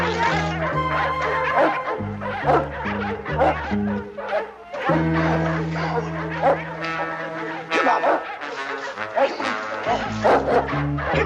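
Several dogs bark and yip all over town, a busy overlapping chorus of barks at middling distance with brief gaps, some whimpering mixed in.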